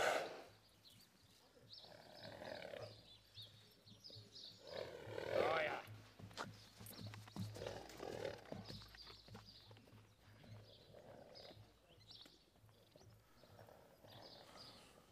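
A horse being shown at a stable inspection walks with faint, scattered hoof clops on the ground, while people talk quietly in the background.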